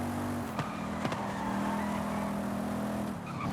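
A race car in Forza Horizon 5 holds a steady, droning engine note close by, with a couple of brief clicks as it shifts and the tone drops toward the end.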